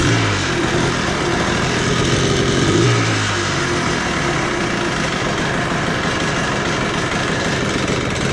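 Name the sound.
Yamaha Blaster ATV engine running with Boyesen reeds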